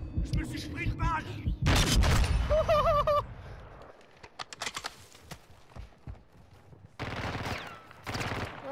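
Call of Duty gunfire arrives in sharp, loud bursts, one dense volley early and more clusters later, separated by quieter stretches with scattered softer shots and game effects, and a voice speaks briefly among them.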